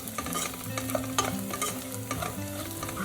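Mutton keema gravy sautés with chilli powder in groundnut oil, giving a steady, close sizzle with continuous scraping and stirring strokes throughout and no voices.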